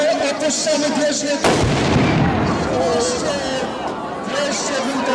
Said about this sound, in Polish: Wreszcie był ten wystrzał.